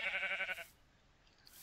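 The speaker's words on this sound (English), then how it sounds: "Oh, there's a sheep." A sheep in the Minecraft video game gives a single short, loud bleat, followed by quiet ambient silence.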